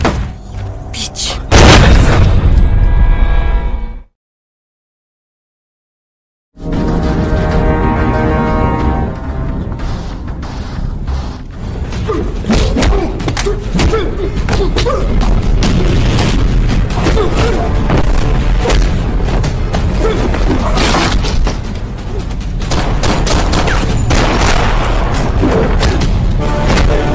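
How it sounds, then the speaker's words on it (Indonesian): Gunfire and explosions from an action film about a hitman versus a psychopath: dense, loud, continuous booms and cracks, cut by a brief total silence before the barrage resumes without pause. "Sementara itu John mendengar suara tembakan tersebut"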